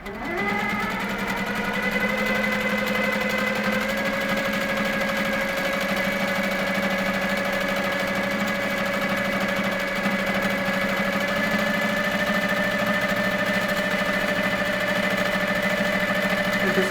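An HQ longarm quilting machine stitches a quilt with a steady, even mechanical whir and hum, its pitch holding nearly constant, close and continuous for the whole stretch.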